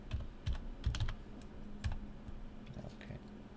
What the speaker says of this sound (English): we're going to type in Debian here